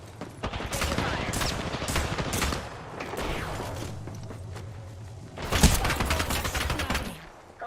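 Rapid video game gunfire in a chaotic firefight, with dense bursts of shots, thuds and impacts crowding together, loudest around the middle, with players calling out between volleys.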